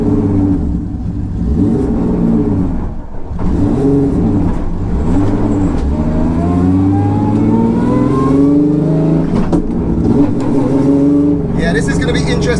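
An R36 turbo Cupra pulls away and accelerates, its engine note rising steadily through the gears, loud and close beneath continuous talking.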